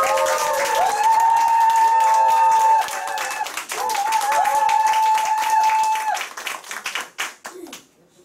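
A crowd at a Korean business group meeting applauds to welcome a presenter onto the stage, steady clapping that dips briefly mid-way, resumes, then thins out into scattered claps and fades.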